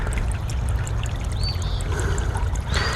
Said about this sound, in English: there's water coming out from right there